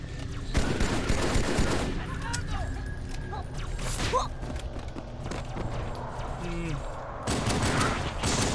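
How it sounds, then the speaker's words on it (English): Plasma pistol shots carrying a plasma rifle sound ring out in a modded Halo 2 match, with repeated bursts of fire over busy battle noise and some voices in the background. "Wait, is the plasma pistol making like a plasma rifle sound?"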